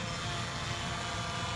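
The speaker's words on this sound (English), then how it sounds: "You actually got a little bit of engine noise." Small consumer drone's motors buzzing steadily in flight as it comes in to land, a brief constant whirring drone.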